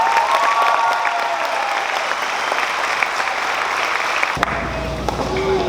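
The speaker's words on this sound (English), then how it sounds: "Another round of applause." A graduation ceremony crowd applauding, a dense sustained round of clapping with a few cheers, loud and steady before a sudden drop near the end, with some voices in the room.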